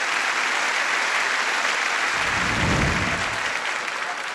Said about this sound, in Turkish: Alkışlar Ümit Sayın'a